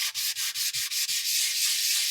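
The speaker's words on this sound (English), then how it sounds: "I'm just gonna try sanding this. I got my 220 grit sandpaper here." 220-grit sandpaper rubs across a custom electric guitar body with Bondo filler in quick, rhythmic strokes, about six close scratchy passes followed by a smoother continuous sanding.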